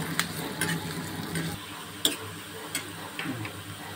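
Soft frying sizzle of chopped onions in hot oil with occasional stirring clicks and scrapes, steady and close, no talking.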